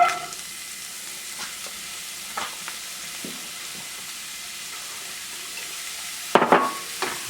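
Carrots and onions being stirred in a pot with a soft, steady sizzle, a few faint scrapes of the spoon, then a louder burst of stirring and clatter near the end.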